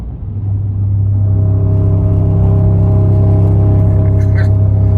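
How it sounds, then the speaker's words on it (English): Car tyres roll over road rumble strips on a Montana road, producing a loud, steady low droning buzz inside the vehicle that holds constant for several seconds. "we got a bunch of speed bumps right in the middle of the road and right on the right-hand side"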